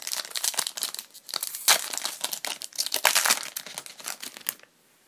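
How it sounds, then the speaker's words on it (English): Yu-Gi-Oh trading card booster packs from the Flames of Destruction set are torn open close up, producing dense, continuous crinkling and tearing of foil wrappers in quick bursts. The sound fades out at the end, with no voices. "start opening up these packs"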